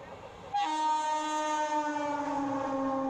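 The Janata Express horn blares on the New Delhi–Mathura line near Asaoti, a single long, steady rich-toned blast that starts abruptly and holds, moderately distant.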